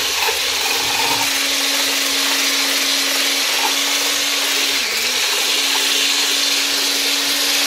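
An electric mixer beats cake batter in a home kitchen, a steady, loud, close whirring hum with a constant motor tone that dips briefly in pitch as it works through the mix, running without pause.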